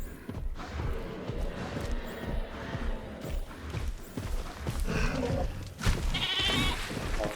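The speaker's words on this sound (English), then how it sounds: "Let's watch him kill this goat." A goat bleats amid game sounds as a dinosaur attacks and kills it in a Jurassic Park park-building video game, the cries mixed into a steady, busy ambient bed of rumbles and creature noise.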